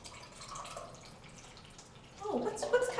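Water drips and drains from a homemade paper mold of PVC pipes into a dish, a faint soft trickle that swells into a brighter patter of drops near the end, with no talk.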